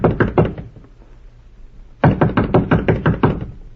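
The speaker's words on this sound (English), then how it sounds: "No, we'll knock first." A firm series of knocks on a wooden door, three quick raps, then a pause, then a longer run of about eight steady knocks, loud and close, with no voices.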